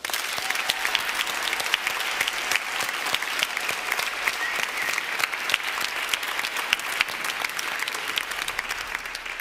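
A church congregation at a Sunday service in Lindakirkja gives a sustained round of applause, dense and even hand-clapping from many people that carries on for the whole stretch.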